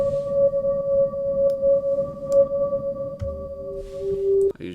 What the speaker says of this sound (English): It's a pad from the piano pads kit.